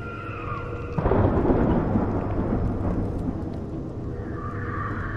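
Crackling lightning and thunder from the Banner Saga 3 video game. A quiet bed gives way to a sudden heavy rumbling crack that rolls on and slowly fades, with no talk.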